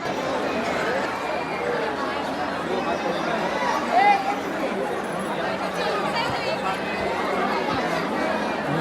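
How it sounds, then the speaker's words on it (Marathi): Dense crowd chatter fills a busy Hindu temple on a Sunday, a steady babble of many voices close around, with faint footsteps and movement mixed in throughout. "संडे असल्यामुळे भरपूर गर्दी आहे बघा."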